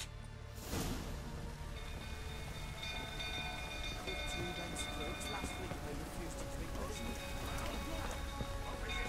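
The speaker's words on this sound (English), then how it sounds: "Looks like rain." Steady rain hiss in The Witcher 3 fills the scene from start to finish, with a low rumble and faint tonal hums underneath, occasional brief voice-like sounds mixed in.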